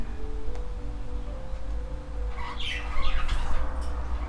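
Pet birds in an indoor bird room let out a few sharp, close squawks over a constant low hum of room noise, with no talking.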